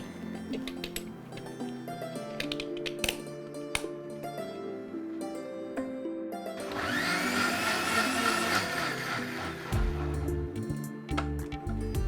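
A kitchen blender whirring as it mixes a drink with added ice cubes, a steady mid-loud grind rising and running for several seconds, with clinks and knocks around it.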